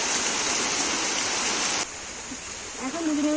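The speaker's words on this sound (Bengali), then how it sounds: "জোরে বৃষ্টি এসছে দেখাচ্ছি" Heavy rain falls in a steady, loud hiss that drops suddenly to a softer wash halfway through, with a voice briefly audible near the end.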